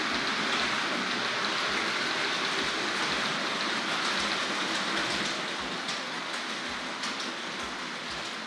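Hornby R.761 Kneller Hall model train running on its track, a continuous dense whirring rush with regular soft clicks of the wheels over rail joints, steady and close.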